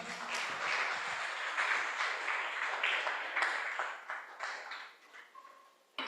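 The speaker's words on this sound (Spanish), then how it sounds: "Dele un fuerte aplauso al Señor" A church congregation applauds in a sustained wash of clapping at moderate distance, thinning into scattered claps and fading out near the end.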